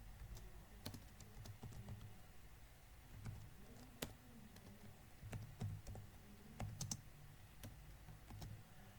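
Computer keyboard typed on while coding JavaScript: quiet, irregular key clicks with occasional sharper taps, close and faint, with no talk.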